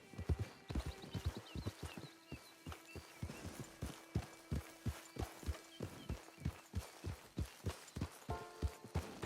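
Horse hooves clip-clopping at a steady walking rhythm in the Red Dead Redemption video game, distinct repeated thuds close by with no talking.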